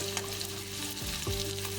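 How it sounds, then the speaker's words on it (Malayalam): Onions frying in oil until they turn brown, a steady close sizzle with a couple of brief stirring scrapes, no talking. "ഉള്ളിയും അതുപോലെ തന്നെ നല്ല ബ്രൗൺ കളറാകുന്നവരെ നമുക്ക് വറുത്തെടുക്കണം"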